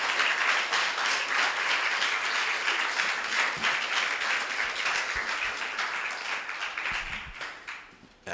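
A church congregation applauds during a Spanish-language sermon, steady dense clapping that stays loud and continuous for about eight seconds before thinning out at the end.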